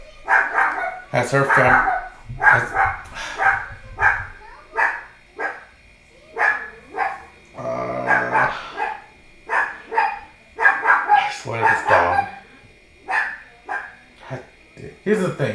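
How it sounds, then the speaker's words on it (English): A dog barks and yips in short bursts inside an apartment, the barks close and sharp, interleaved with ongoing conversation between people. "That dog there is not my dog"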